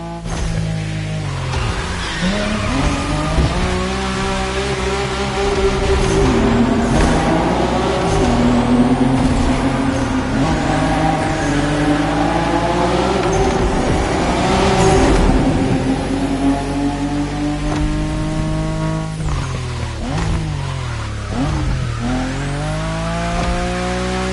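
A car engine in the Motorfest racing game revs hard through a drift, its pitch rising and falling continuously at loud volume with tire squeal mixed in.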